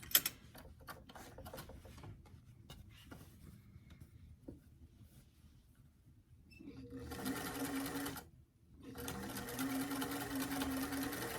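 A domestic sewing machine stitches a waistband onto a pair of pants, first in short bursts of ticking stitches, then in two longer, louder runs of steady whirring separated by a brief pause.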